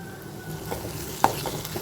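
Masala powders are stirred into prawn thokku in a pan, giving a low, steady frying hiss with occasional spoon scrapes and one sharper clink of metal on the pan.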